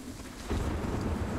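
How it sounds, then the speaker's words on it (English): Rain falling in a dynamic weather system in the video game Sniper Ghost Warrior 3, a steady broadband wash that swells sharply after the first half second and then holds as a continuous, fairly loud hiss with a low rumble. "We have a dynamic weather system, so now it's raining."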